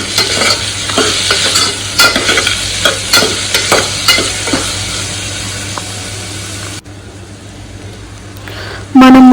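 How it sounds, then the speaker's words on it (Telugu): Vegetable pulao sizzles steadily in a hot pan while a utensil stirs a paste in with repeated scraping strokes, then the frying quiets before a brief loud tone. "వేసుకొని బాగా మిక్స్ అయ్యేంత వరకు కలపాలి."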